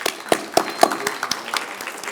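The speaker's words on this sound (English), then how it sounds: "Let's give them all a warm round of applause." At an awards ceremony, a few people clap for the recipients in sparse, separate claps with a roughly even rhythm, close by and moderately loud.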